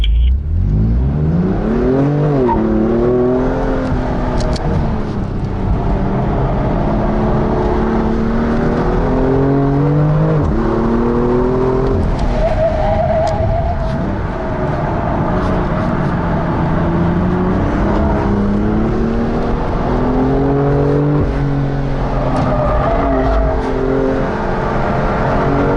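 A BMW M car revs hard through repeated gear pulls during a launch on a performance driving course, its engine note climbing and dropping loudly and continuously from inside the cabin.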